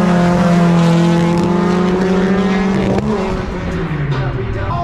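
Lada cars drifting on ice in Russia: a loud, sustained engine howl at high revs that holds steady, then falls in pitch as the car slides past, with faint tire noise and no talk.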